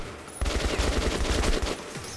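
Video game gunfire from an inaccurate gun, a loud rapid burst of automatic shots lasting about a second and a half, then short echoing tail.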